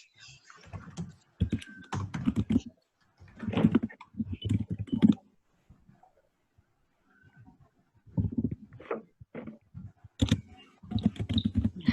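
Bursts of clattery keyboard typing come in uneven runs with short pauses between them, fairly close and moderately loud, with no voices.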